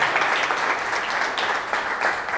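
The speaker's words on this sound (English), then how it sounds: "Please give them a round of applause." Steady crowd applause, dense and continuous, with many hands clapping at once throughout, fairly loud and even with no voices standing out.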